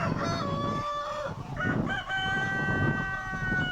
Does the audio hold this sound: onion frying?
no